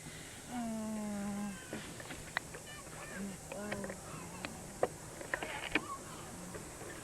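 Cat meowing outdoors near parked cars: a drawn-out meow is followed by several shorter meows and faint cries, with small clicks and rustles in the background.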